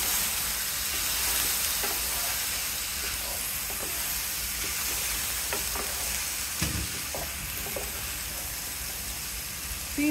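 Soaked, drained rice for pilau frying in a pan gives a steady close sizzle and hiss, with a few soft scraping stir strokes partway through.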